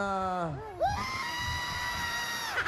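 Person shrieking during a game show challenge on a noisy studio stage, a long, high, wavering scream that rises and holds over crowd noise and shouts.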